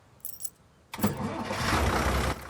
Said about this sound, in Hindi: गाड़ी स्टार्ट कर लो अब